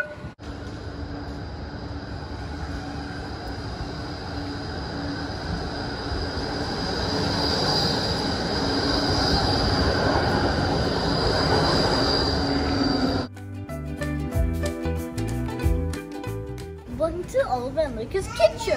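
A tram pulls into a tram stop, a long loud rumble of wheels on rails with a high whine building toward the stop, then someone speaks over quieter station sounds near the end.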